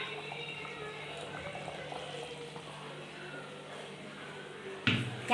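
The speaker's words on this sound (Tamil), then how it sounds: "இறக்கி வச்சு குழம்பு என்ன கொதிக்குது பாருங்க" Kuzhambu, a curry, simmers in a pot taken off the heat, giving a steady soft bubbling and hissing throughout at close range, with a short louder clatter near the end.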